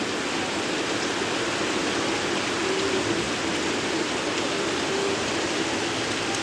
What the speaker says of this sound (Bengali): দেখতেই পারছেন কতটা বৃষ্টি হচ্ছে